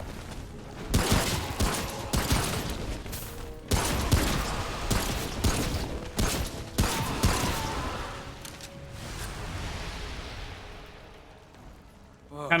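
Gunfire in Remnant: From The Ashes, with bursts of rapid shots in several volleys, loud and close, fading near the end.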